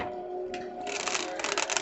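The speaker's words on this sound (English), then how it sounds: "Let me give these a quick shuffle." A deck of cards is shuffled close up in a tarot-style reading, a quick riffle that builds into a dense, rapid fluttering of cards over a steady background tone.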